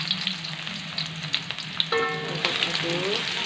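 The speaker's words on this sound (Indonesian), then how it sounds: "Lalu kita tumis bawang merah dan bawang putih." Shallots and garlic sautéing in about two tablespoons of hot oil, a steady close sizzle with occasional stirring scrapes throughout.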